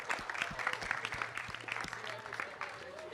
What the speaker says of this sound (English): I'm expecting a big cheer for Team 32741.